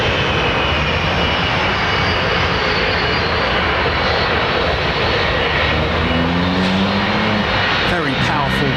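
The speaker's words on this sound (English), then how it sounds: "Little burst of power, bring her up to the line. It's an old airframe, that is, folks." Old airliner jet engines spool up at Heathrow Airport, a loud, steady roar swelling in power with a rising whine toward the end, with someone talking over it.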